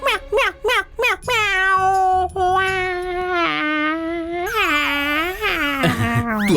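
A man imitates a cat meowing: a quick run of short, loud, close meows, then longer drawn-out mewing calls that rise and fall in pitch.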